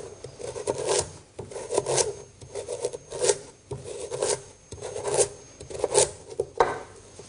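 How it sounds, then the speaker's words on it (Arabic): A knife slices through carrots in a series of rasping, scraping cuts at a steady uneven rhythm, close and fairly quiet with no talking. "نبتدي نقطع الجزر الى شرائح بالشكل هذا"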